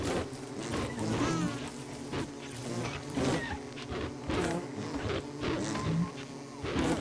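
Bees swarm and buzz in the video game Don't Starve, a busy layer of insect drone mixed with rapid game thuds and hits that pulse steadily throughout.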